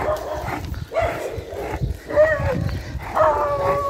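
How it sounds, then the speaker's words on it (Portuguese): Street dogs bark and yelp in short bursts outdoors, close by and fairly loud, with a few whiny yips mixed in over general street noise. "Olha lá, mais cachorro na rua."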